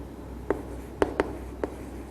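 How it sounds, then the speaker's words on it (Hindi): Pen strokes on paper during a biology lecture on Ascaris, four short separate scratching marks, close and clear over a quiet room hum with no talking. "यहां पर हम लिखते हैं"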